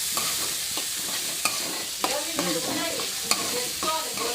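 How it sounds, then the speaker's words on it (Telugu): Onions and tomatoes fry in a pan for curry, a constant soft sizzle broken by sharp scraping clinks of a stirring spoon against the pan. "ఇది బ్రౌన్ కలర్ వచ్చే వరకు మనం వేయించుకోవాలి."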